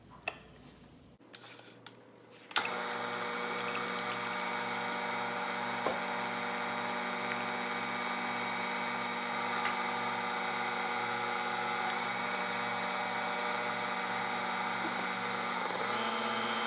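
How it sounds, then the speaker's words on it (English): An electric mixer whirs steadily through carrot cake batter with eggs after a few soft kitchen knocks, its motor holding a loud, even mechanical hum for the rest of the stretch. "We're going to mix this together"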